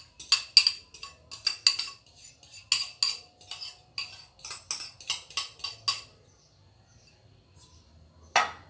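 Cabbage salad with yogurt dressing gets tossed with utensils, giving a rapid series of wet clinks and scrapes against the bowl. After a short quiet pause, one last scrape follows.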